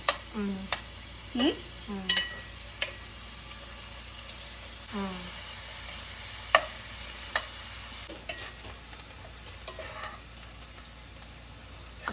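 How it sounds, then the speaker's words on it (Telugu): Chopped onions frying in a pan for palak fish curry, a low steady sizzle with intermittent scraping stirs and a few clinks of a utensil, close-up and without speech. "మొత్తం ఆనియన్స్ ఫ్రై అయిపోయినాయా"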